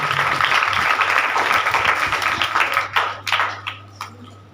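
Congregation at a Presbyterian church in Talwandi Bhindran, Narowal, clapping together in a full, continuous burst that thins into a few scattered, separate claps toward the end.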